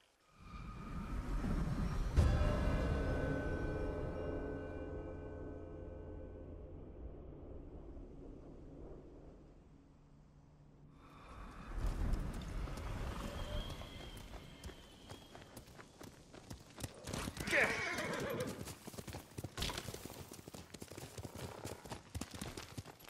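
Horses galloping in Ghost of Tsushima, a burst of hoofbeats near the start with a swelling whoosh and tonal music, then a quieter lull before hooves clatter again in quick repeated clip-clop with wind noise behind.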